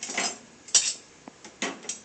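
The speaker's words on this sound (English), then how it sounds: "You're going to put your spoons heads up in the side designated for the silverware." Metal spoons, forks and knives are placed into the silverware basket of a dishwasher, a few separate light clinks and rattles spaced out over two seconds, close and fairly quiet.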